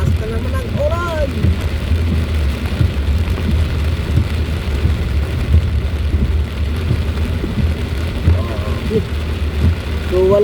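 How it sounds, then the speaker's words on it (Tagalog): Heavy typhoon rain drums steadily on a car driving through Alabang Hills, a dense continuous wash of rainfall over low road and engine rumble, with a voice speaking briefly over it. "Ang lakas na naman ng ulan."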